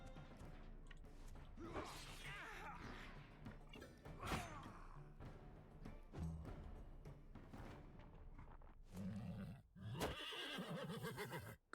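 A horse whinnies and neighs repeatedly during combat in the video game Wartales, mixed with thuds, clanks and crashing hits, loud and close over busy battle sounds.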